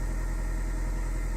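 A Ford Fusion 1.4 TDCi diesel engine idles just above 1,000 rpm, producing a steady, close, low rumble with a fine mechanical vibration. The sound is unbroken, with no voices.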